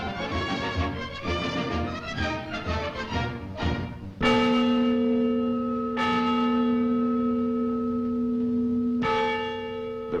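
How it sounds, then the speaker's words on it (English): The Freedom Bell, a replica of the Liberty Bell, tolls at noon from the tower of Schöneberg Town Hall in West Berlin: loud resonant strikes whose long humming tones ring on and overlap, with fresh strokes renewing the sound. "Every day at noon, the bell rings out from the tower of the Schönberg Town Hall."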